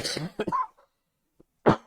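A person gives a short, sharp cough close to the microphone after a few brief throat sounds, alone with no talk.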